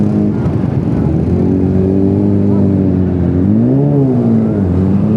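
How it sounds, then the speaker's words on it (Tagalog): A Yamaha R6 motorcycle engine runs loud and close with a steady droning hum, its pitch swelling briefly in a short rev before settling back. "Ito pala yung kanyang motor. R6 man eh."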